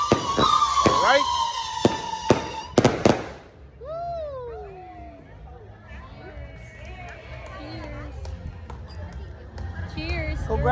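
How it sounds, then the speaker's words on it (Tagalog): Celebration fireworks bang several times in sharp, loud bursts, followed by cheering voices and people talking over a lively crowd. "We are witnessing right now the fireworks."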